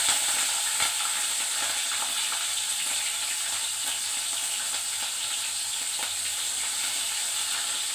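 Chillies fry in hot oil in a pan for tomato dal, a steady close sizzle and hiss that continues evenly for eight seconds, with faint stirring clicks.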